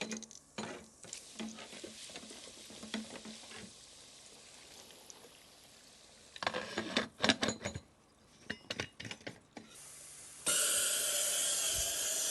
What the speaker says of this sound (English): It is a lot of pressure frying.